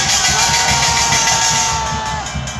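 Protest rally crowd in Seocho-dong shouting and cheering together, a loud sustained roar of many voices that stays strong and then eases slightly toward the end.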